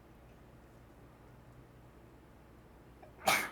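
A single short, sharp human sneeze bursts out near the end, loud against an otherwise quiet room tone.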